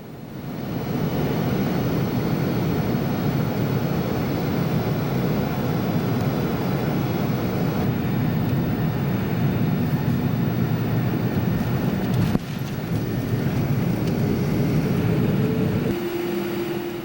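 Steady droning rumble of an airplane engine while the aircraft taxis to the apron at Zagreb, with a faint tonal whine appearing near the end.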